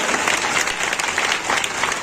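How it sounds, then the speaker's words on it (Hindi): Enthusiastic applause from a crowd at a satsang farewell ceremony in Beawar, a dense, loud, continuous patter of many clapping hands with no talking over it. "जोरदार ताली सेवा"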